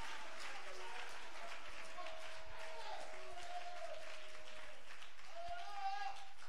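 A church congregation in Abidjan applauding continuously, a dense wash of clapping throughout while a preacher's voice and sung tones carry over the top.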